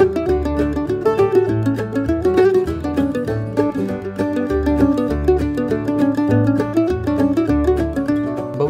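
A mandolin picks the B section of Fisher's Hornpipe in a lower octave, giving a brisk, continuous run of bright plucked notes in a lilting rhythm, played alone and close.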